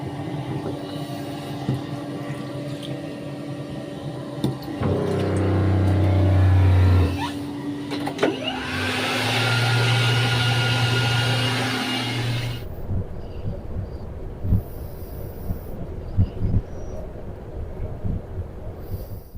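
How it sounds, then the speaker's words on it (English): Heavy road traffic on the A9 in Scotland, heard as the steady rumble of vehicles, with a louder engine drone swelling and passing in the middle before fading to a lower, quieter hum of traffic. "It seems to be very heavy road traffic on the A9"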